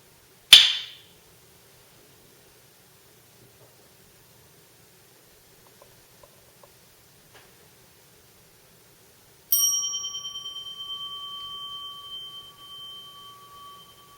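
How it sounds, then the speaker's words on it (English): In a Zen meditation hall, a single sharp clap rings out, followed after a long quiet pause by one struck meditation bell whose clear tone lingers and slowly fades. "the jikijutsu will signal the end of the transition with 1 clap and 1 bell."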